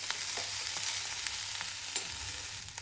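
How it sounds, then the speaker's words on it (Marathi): Corn kernels roasting in a pan for corn chaat, with a continuous close sizzle and light scraping of a spoon stirring them. "जास्त वेळ नाही भाजायची."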